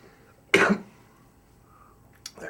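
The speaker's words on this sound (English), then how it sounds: "I'm going to cough." A single loud human cough, sharp and close, followed by quiet room tone and a faint short sound near the end; no speech.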